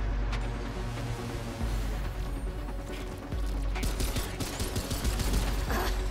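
Gunfire in Remnant 2 sounds as a run of rapid, sharp shots, sparse at first and then dense, repeated cracks in the second half over a low rumbling game background, loud and close, with no talking.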